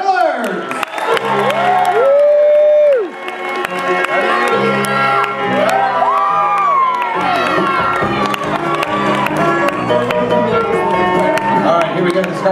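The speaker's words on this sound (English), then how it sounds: "So big round of applause. Let's welcome out all of our circus jugglers." A cruise-ship audience cheers, whoops and shouts, with children's voices high in the mix, as child circus jugglers are welcomed on stage; the crowd noise is loud and continuous, and a voice talks through it over a music-like tonal backing.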